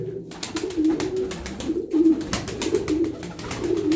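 Miski pigeons coo in a loft, a steady layered cooing close by, with rustling and faint clicks over it and no talk.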